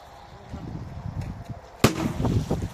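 A firecracker set off under water in a metal grate goes off once as a single dull, muffled boom partway through, followed by a brief churning splash, with low background rumble beforehand.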